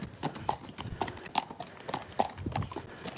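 A horse walks forward in a steady four-beat clip-clop, each hoof strike crisp and moderately close, with faint ambient noise and no speech.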